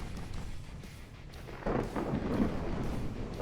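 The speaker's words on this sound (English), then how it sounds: "the fucking thunder is extremely loud in my ears right now" Thunder rumbling over a storm at sea in the naval game Ultimate Admiral: Dreadnoughts, a low distant roll that swells midway and lingers, faint beneath wind and waves.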